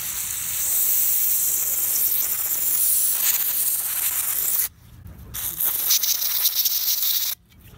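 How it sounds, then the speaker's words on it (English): Brake parts cleaner hisses from an aerosol can in loud, continuous bursts to flush oil out of a one-way bearing from a nitro RC engine, with two short pauses breaking the steady spray. "I'll be using this brake parts cleaner"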